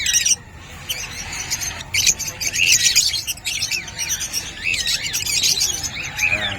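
A lutino cockatiel calls among other caged birds at a busy Bocaue pet market, repeated shrill chirps and whistles over a steady chattering bird din, close and lively.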